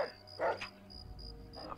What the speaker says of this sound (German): Der Hund hat hier irgendwo hingebellt.